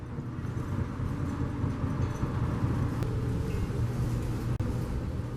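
Steady low rumble of a city bus ride in traffic toward downtown Seattle, a continuous engine and road drone from inside the cabin with faint passing sounds and no talk.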